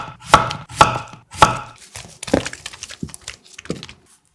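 Two cucumbers sliced thin, about 0.3 cm, with a knife on a cutting board: sharp close chopping knocks, three strong evenly spaced strokes followed by several quicker, lighter cuts.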